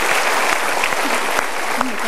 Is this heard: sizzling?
no